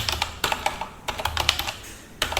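Someone types a command on a computer keyboard during a Linux tutorial, with close, crisp keystrokes arriving in quick bursts separated by short pauses.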